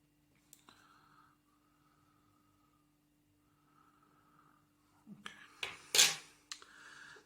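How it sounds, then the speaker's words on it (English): Scissors snip off excess material while an Irish Calvin Shrimp fly is tied. Near silence gives way to a few close, crisp snips and handling clicks toward the end. "so then cut off your excess"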